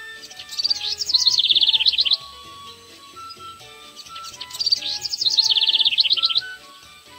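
A yellow bird chirps in two quick, high bursts of trilling tweets separated by a short pause, standing clear over a soft musical backing.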